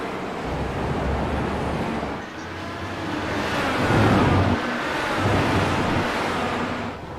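Race cars at Road America sweep up and over a hill, a steady broadband roar of engines building and swelling as they pass, mixed with wind rush and no talking.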